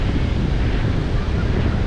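Surf washing up a beach at high tide near a resort at Nagaon, a steady dense broadband wash of water and wind buffeting the microphone, loud and continuous throughout.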